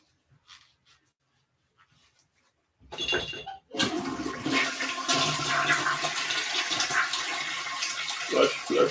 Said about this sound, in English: Flush, flush, flush.